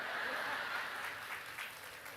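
A crowd at a Catholic revival service in Indonesia claps steadily, a moderate and fairly even wash of applause with no talk over it.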